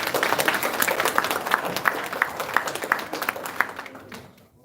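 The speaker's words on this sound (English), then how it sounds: "Give them a round of applause, please." Audience applause at a ceremony honouring outstanding Jamaican guidance counselors, a steady burst of many hands clapping with sharp individual claps standing out, then thinning and fading out near the end.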